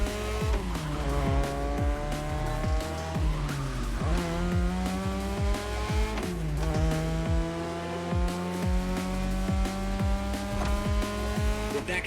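A car in The Crew Motorfest drifts through sharp turns, its engine droning with repeated pitch sweeps as the gears shift, layered with steady tire squeal and skidding that runs loud and close throughout.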